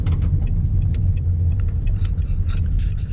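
A Toyota Sienta on the move, heard from inside as a steady, dense low road-and-engine rumble that holds evenly throughout, with no talking.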